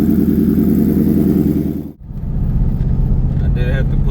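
A Ford Mustang Mach 1 of the New Edge generation idles while warming up, a loud, close, steady engine rumble that briefly drops out partway through before settling back into an even idle.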